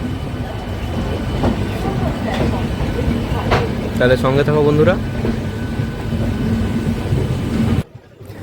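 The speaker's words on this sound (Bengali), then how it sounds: "এখন আমাদের ট্রেন হাওড়া ছেড়ে বেরোচ্ছে।" Kamrup Express pulling out of Howrah station, steady rumbling rolling noise with a few squealing, wavering tones from wheels or brakes, someone speaking briefly over it before it cuts off near the end.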